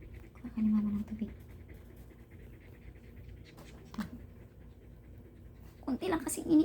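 A pet dog pants heavily after racing around the living room and bedroom, quick breathy bursts near the microphone, with someone talking softly between them.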